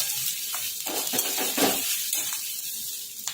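Sliced cabbage and capsicum being stirred and tossed in a hot pan for veg spring roll filling, a steady close sizzle with scraping and light clinks of the spatula, no voices.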